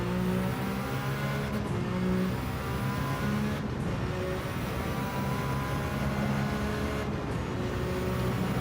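A Ferrari Gr.1 prototype race car screams through Gran Turismo 7, its engine revving high and continuous with sharp gear-change dips at regular intervals, close and loud.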